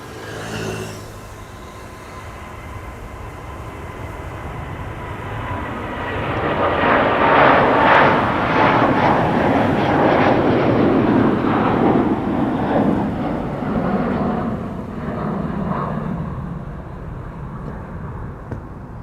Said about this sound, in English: This is Delta Airlines Flight 49, A330neo to New York, JFK.